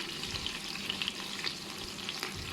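Carrots, potatoes, onions and peppers frying in a pan with lamb, a dense, close sizzle of bubbling oil with light crackles throughout, steady and uninterrupted, no speech.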